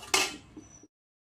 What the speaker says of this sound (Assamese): এতিয়া গেছত বহাই দিম।